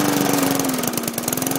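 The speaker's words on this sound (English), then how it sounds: "I think I should really just consider putting the camera down and just focus on mowing the lawn here." A lawn mower engine runs steadily while mowing a lawn, a loud, close, continuous drone with a slight drop in pitch and rhythmic pulsing, heard alone.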